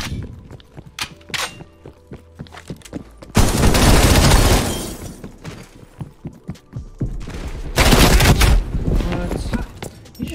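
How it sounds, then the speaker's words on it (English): Rapid M16 rifle gunfire from a Black Ops Cold War multiplayer match, loud bursts of shots in two dense stretches with clanks and quieter shots between. "You just shot me that close with an M16?"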